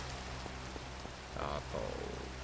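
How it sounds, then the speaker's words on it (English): Steady rain in the video game Minecraft gives a dense, even hiss with soft patters throughout, plus a few faint tonal blips near the end. "this rain is loud"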